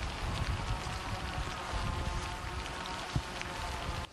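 Steady rain falls at frontline trench positions near Popasna, a continuous broadband hiss with a light patter of drops, fairly close and even throughout, with no voices.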